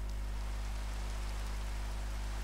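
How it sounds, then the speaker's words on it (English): Rain falls in the Minecraft ATM8 modpack, a soft, even hiss of steady rainfall beneath a low constant hum, quiet and unbroken throughout. "It started raining outside"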